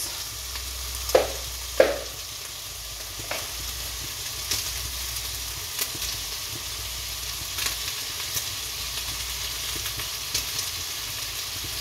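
Carrots sizzle steadily in a hot pan for Filipino chop suey. A broad, even hiss runs throughout, broken by two sharp clacks of a utensil early on and a few softer taps later, with no talking.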